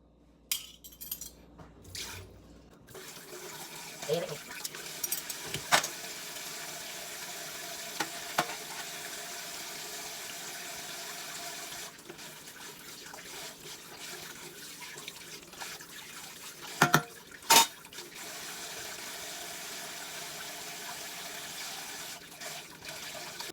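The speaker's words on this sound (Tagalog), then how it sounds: "ang hugasan nyo ay ang kutsara, tinidor" Spoons and forks being washed in a household sink under a running tap, a steady hiss of flowing water with occasional metallic clinks and clatters, close by and without talk.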